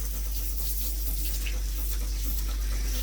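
Running water rinsing a Cream Retriever dog during grooming, a loud continuous hiss and splash from a nearby sprayer with no break and no voices.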